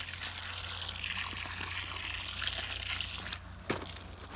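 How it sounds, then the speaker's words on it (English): Water poured onto young trees in a family's backyard garden project, a steady hissing splash and trickle throughout, fairly soft, with a brief clatter near the end. "we're gonna just water the trees"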